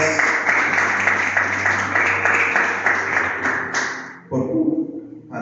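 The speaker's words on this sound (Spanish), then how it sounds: "Siéntese y denle un fuerte aplauso al Señor." A church congregation claps loudly and steadily together for about four seconds, a dense continuous burst with faint musical tones beneath, before it breaks off and a voice begins speaking.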